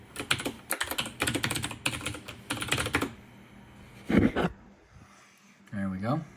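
Rapid bursts of keystrokes clatter on a computer keyboard as a password is typed, near and crisp, with brief pauses between runs and a short stretch of spoken talk partway through.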